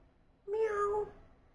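A grey cat gives one soft, clear meow lasting about half a second, close by, against a quiet background.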